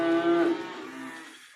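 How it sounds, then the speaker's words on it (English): A single loud, close moo from cattle at a grain feeder on a farm on a morning with steers, starting strong and then trailing off into a softer low tail. "so that all these cows can enjoy some grain this morning."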